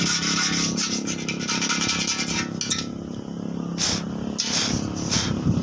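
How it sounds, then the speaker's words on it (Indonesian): Sandpaper from 500 to 2000 grit is rubbed across a red Yamaha Vixion motorcycle body panel, producing repeated close, raspy back-and-forth strokes with brief pauses between passes. "kertas gosok dari ukuran 500 sampai ke 2000"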